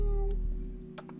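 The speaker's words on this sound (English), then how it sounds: "meow." A house cat gives a short meow over a faint steady hum, with a couple of small clicks after it; one brief vocal call, close and fairly clear.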